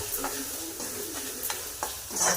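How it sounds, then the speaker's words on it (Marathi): Onion sautéed with chili powder, turmeric and garam masala for an egg curry sizzles softly in a pan while a spoon scrapes and stirs in irregular strokes, close and alone without talk. "आता तिखट हळद गरम मसाला टाकला आहे आणि आता ते चांगलं परतवून घ्यायचं"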